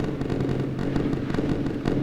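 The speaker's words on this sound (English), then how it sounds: "Wow, look at all that gunfire." Dense rapid gunfire crackles in quick irregular bursts over a low rumble in a naval game battle between a Kidd-class destroyer and a Soviet cruiser group, continuous and fairly loud, like a barrage of small explosions.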